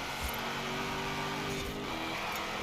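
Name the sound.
Rover B-class car engine racing in video game Forza Horizon 4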